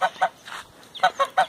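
A goose at an exotic bird aviary honks in short repeated calls, about five brief nasal bursts with pauses between them, close and fairly clear with no talk over them.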